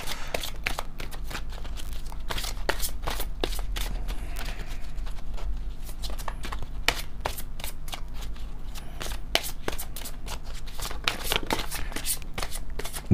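A deck of oracle cards is shuffled and cards are drawn by hand, giving a steady run of close, crisp riffling clicks and soft slaps that continue for several seconds against quiet background hiss.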